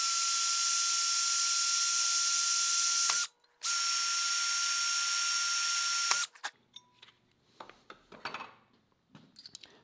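A power drill runs at slow, steady speed while boring through a steel drawer pull, two sustained whining passes split by a brief pause, then quiet handling clicks and taps.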